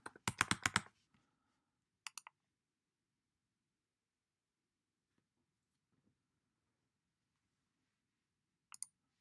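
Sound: typing a password on a computer keyboard

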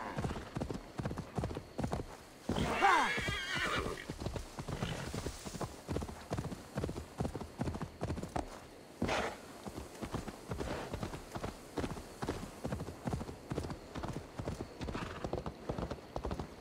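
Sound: video game horse hooves clip-clopping

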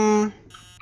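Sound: alarm clock ringing in video game Emily Wants to Play Too

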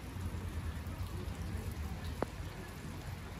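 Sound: rain falling

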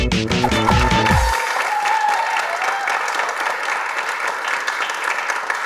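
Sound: applause

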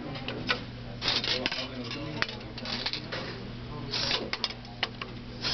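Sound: VEX robot materials sorter running and sorting marbles

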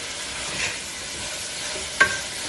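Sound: curry leaves added to frying onions, sizzling

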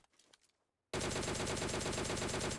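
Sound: gunfire from the video game PUBG Mobile Lite

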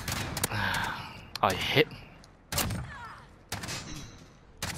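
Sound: gunfire in the video game The Finals

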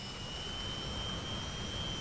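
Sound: Su-27 jet engines relighting, DCS World video game

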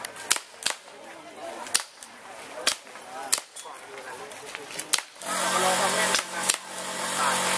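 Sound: toy guns shooting at targets at a night market stall

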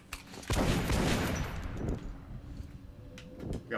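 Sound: gunfire in the video game Metro: Last Light

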